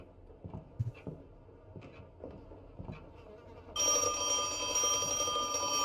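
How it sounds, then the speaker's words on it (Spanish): A telephone rings inside a haunted house in the horror game Project Nightmare, a loud, sustained electronic ring that suddenly cuts in over quiet ambient thumps and footsteps and then keeps ringing steadily. "Yo no te voy a coger el teléfono, ¿eh? Así que venga, llama."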